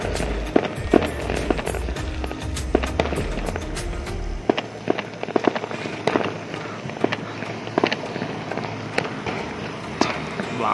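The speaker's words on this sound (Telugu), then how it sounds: "బాంబులు సౌండ్" Firecrackers bursting in a rapid irregular series of sharp pops and bangs, some near and loud, others farther off, over a low rumbling engine that fades out partway through.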